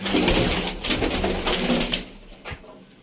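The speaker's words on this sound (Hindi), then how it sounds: "ये पिजन थे जो हमने आज उड़ाए थे" Pigeons in a loft, some newly flown that day, coo close by in soft, throaty, overlapping calls that trail off near the end.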